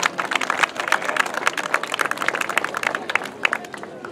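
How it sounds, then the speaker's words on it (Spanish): An audience at a civic event with a mayor and officials present claps steadily for a regidora, dense overlapping hand claps sustained and fairly near for several seconds. "Fuertes aplausos, por favor."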